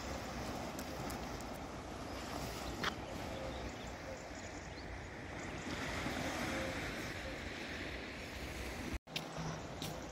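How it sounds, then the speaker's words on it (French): Waves wash onto a beach in a continuous soft roar, fairly faint and mixed with wind buffeting the microphone and a brief thump near the end. "je vous emmène quand même au bord de la plage, hein, pour vous montrer l'endroit comme il est sympa"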